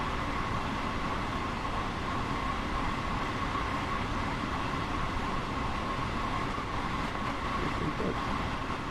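Steady rumbling rail noise of a Long Island Rail Road train rolling past in Train Sim World, a continuous broadband roar with a faint hum, holding level the whole time.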